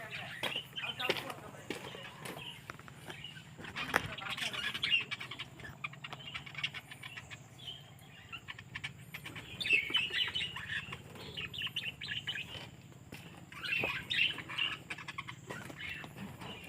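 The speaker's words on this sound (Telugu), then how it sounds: "ఇవి కొన్ని పక్షులు." Birds chirping and tweeting around a garden with a durian tree in Malaysia, bright repeated calls coming in clusters at moderate distance over a soft background hum, with occasional voices.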